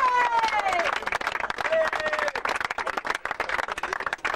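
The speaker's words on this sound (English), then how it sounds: "ladies and gentlemen, a great big cheer for both sides" A crowd applauds and cheers for both sides at the end of a Yorkshire Cup final between Skirlaugh and Heworth. The clapping is dense and sustained, with some chatter in the crowd.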